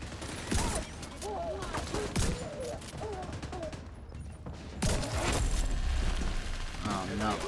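Gunfire in The Division 2 crackles in rapid bursts and fusillades, fairly close and loud, mixed with a man's excited chatter over the shots.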